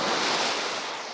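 Sea waves surging and washing ashore at Cobbold Point, Felixstowe, near a sea defence as the tide comes in. The surf makes a loud, steady broadband roar with some wind noise and no voices.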